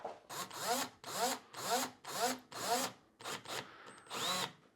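Power drill driving a screw into a recessed light's mounting clip on drywall, a series of about six short whirring bursts with brief pauses between them, close and fairly quiet.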